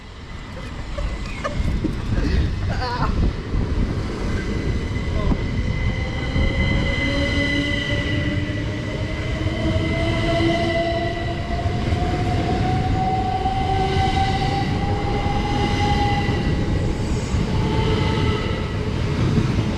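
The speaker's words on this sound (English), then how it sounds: "off goes the 1809 Southeastern service from Ramsgate to London Charing Cross" A Southeastern Class 375 electric train departs Ramsgate, its traction motors whining upward in pitch over a loud continuous rumble of wheels, with squeals and clatter as it pulls away close by.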